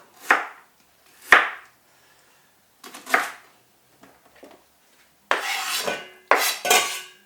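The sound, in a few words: dicing onions on a chopping board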